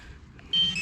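A metal detector gives a short electronic beep signal while sweeping ground on a relic-hunting dig; the tone rises suddenly and holds for about a third of a second, loud against quiet outdoor background.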